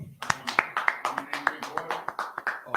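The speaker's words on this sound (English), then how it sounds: "let's clap it up" A class group gathered for a Monday night history and scripture lesson claps their hands in unison, sharp claps falling in a quick, even rhythm, close and moderately loud, with a faint voice in the background.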